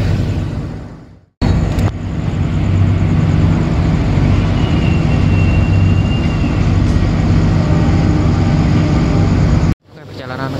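The Gajahwong night train between Jogja and Jakarta pulls away from Krupuk station, a loud, steady rumble of the carriage heard from inside, with brief cut-outs at the start and end.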